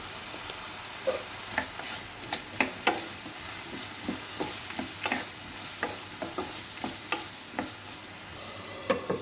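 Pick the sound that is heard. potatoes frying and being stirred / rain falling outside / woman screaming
potatoes frying and being stirred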